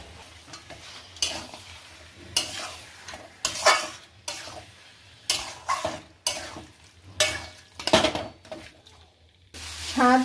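Mutton stirred and fried in a pan for mutton polao: a steady sizzle runs underneath while a spoon scrapes through the meat in repeated strokes, with a few light pan clinks.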